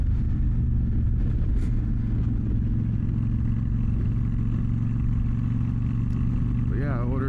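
A motorcycle rolls through city traffic in Fort Wayne, its steady engine drone and low rumble holding close and constant, with a brief rising tonal whine near the end; talk carries over the ride.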